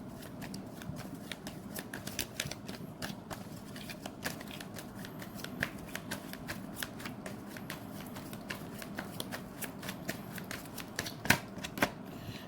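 Tarot cards being shuffled by hand, a steady run of quick riffling flicks and soft slaps, close and fairly quiet, with no talk.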